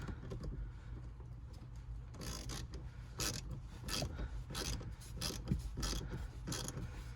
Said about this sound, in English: Now we can tighten up these terminals.